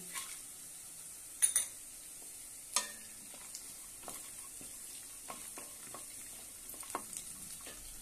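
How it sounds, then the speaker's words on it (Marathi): Peanuts being sautéed in a pan with curry leaves for rava upma, a soft sizzle under intermittent scraping and clinks of a spoon stirring against the pan, fairly quiet and close. "सर्व छानपैकी परतून घेऊया। थोडेसे शेंगदाणे"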